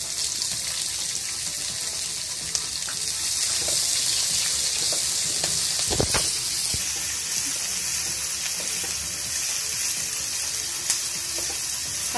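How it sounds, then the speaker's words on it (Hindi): Chopped onions and green chillies frying in a pan, a steady close sizzle with occasional stirring scrapes and clinks, no voices. "हल्का सा ब्राउन करेंगे हम प्याज को।"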